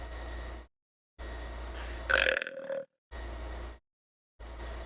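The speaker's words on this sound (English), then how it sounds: "Put a burp in post." A single drawn-out, gurgling burp, loud and close, rising between short gaps of silence with a steady low hum under the surrounding stretches.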